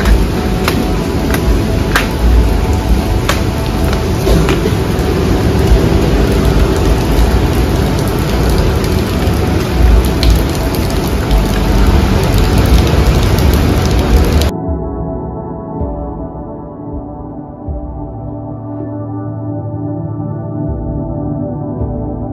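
Heavy rain pours during a family trip to Goa, a dense and loud steady hiss for about fourteen seconds. It then gives way abruptly to a quieter, tonal background.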